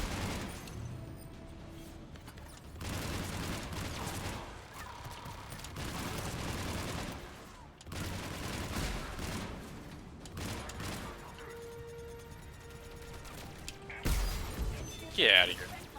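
Turret gunfire in the Mass Effect 3 video game, bursts of rapid shots rattling in several loud waves over game ambience, with a sharp louder blast near the end and voices speaking at times.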